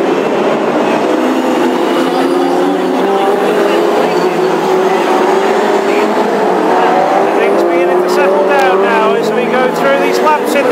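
Classic hot rod race cars run the final race of the season at Birmingham, their engines roaring loudly and continuously with rising, shifting tones while a commentator talks over the noise.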